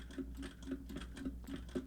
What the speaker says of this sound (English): this is a test of me typing on my keyboard in the background